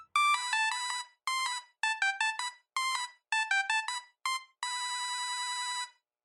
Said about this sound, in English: these were basic monophonic ringtones, simple bleeps and bloops